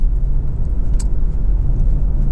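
A Lexus RX400h hybrid SUV drives from a cold start, its steady low road rumble and engine drone filling the cabin continuously with no speech.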